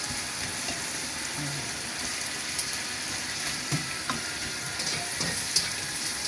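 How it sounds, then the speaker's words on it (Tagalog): Pork chop sizzling in a pan with tomatoes and vegetables, a steady frying hiss broken by occasional clinks and scrapes of stirring. "Para maluto na mabuti yung pork chop, haluin natin ng mabuti."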